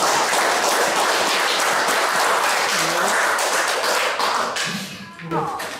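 An audience at a humanities lecture on the novel claps steadily in a dense patter of hands that tapers off near the end as a voice begins to speak.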